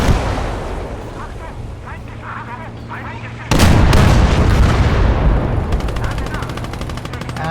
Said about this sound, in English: And a bomb.